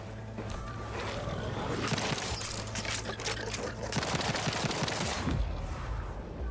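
Machine pistol fire in The Outer Worlds 2: dense, rapid bursts of close, loud shots over several seconds, mixed with game effects and roaring, with no voices.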